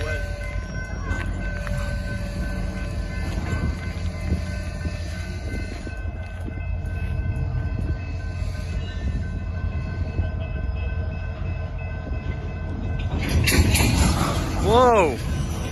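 A second freight train approaches on the opposite track at a Tulsa, Oklahoma crossing, its horn rising loud near the end over steady rumbling rail noise and idling locomotives.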